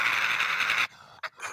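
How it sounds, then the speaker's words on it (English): A harsh, raspy animal call hisses loudly for under a second, followed by a couple of short breathy snorts. "This is the sound of a North American badger."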